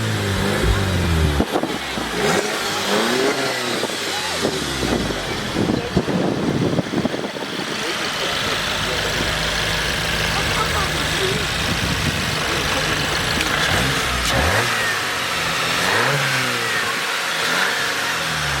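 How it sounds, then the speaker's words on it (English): A 2016 Volkswagen Golf R running an APR Stage 2 tune cranks to life and revs hard, rising and falling engine roar filling the clip, with brief talk mixed in near the start. "I'm ready to hear this Golf R fire up."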